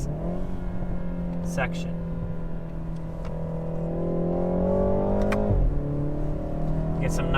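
A stock BMW G20 330i fitted with a Valvetronic Designs rear back box revs up in a rising, steady engine tone, then drops sharply as the gear changes and builds again, loud and close, with talking over it.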